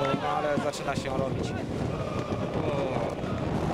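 Wind buffets the microphone with a steady rumbling rush at an outdoor fourth-tier Polish league football match, Skalnik Sulejów against GKS Bełchatów, while someone talks over it.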